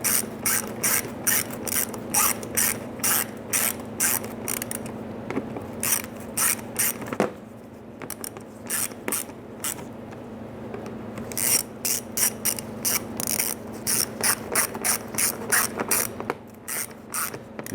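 A ratchet clicks rapidly in bursts while snugging down bolts during a thermostat replacement on a 2005-2010 Chrysler 300, close and loud with a short pause midway and no talking.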